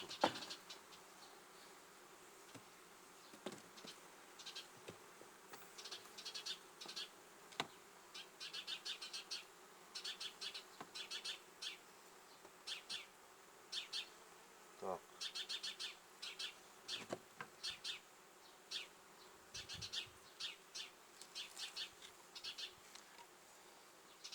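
Honey bees buzzing softly inside a hive, a steady low hum with frequent brief clicks and rustles, quiet and close.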